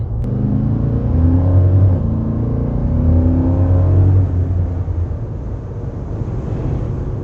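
A 2022 Nissan Titan Pro4X pickup towing a trailer in high winds gives a steady, loud engine and road rumble with a continuous low drone throughout, no talk.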